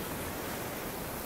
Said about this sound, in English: the waves started getting up to me